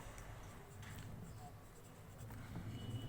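Chalk or marker scratches faintly on a board while a beam design calculation is worked out, with short strokes and taps in a quiet room and no speech over them.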